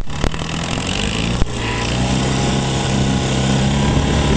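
A 1974 Johnson 6HP outboard motor, brought back after about three years of not running with carburetor work and a jury-rigged spark plug repair, runs with a steady, loud buzzing drone. A couple of sharp clicks sound early on.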